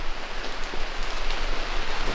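Steady rain falling on a roof, with water leaking through onto a surface below; a constant, even hiss of droplets at close range with no talking.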